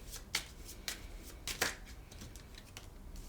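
Poker cards being shuffled up close, a series of quick riffling bursts with brief pauses between them, no voices.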